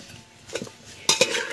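Green peas are stirred into a karai (wok) while cooking vegetable pulao, giving a few short metallic scrapes and clinks of a spoon against the pan, with the sharpest ones near the end.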